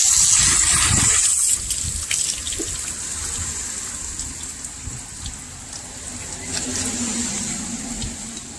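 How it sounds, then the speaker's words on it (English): Water rinsing packed sand out of the rocker panel of a 1962 Mercury Comet, a steady close hiss and splash with a brighter spray at the start, continuing evenly without talk. "Give this a good rinse inside the body panels"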